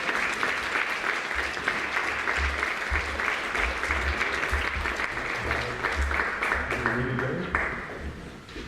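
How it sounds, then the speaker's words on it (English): Loud, sustained audience applause fills a full-house talk venue, dense clapping that holds steady before tapering off at the end, with a voice faintly under it. "Please give him a warm up. Round of applause."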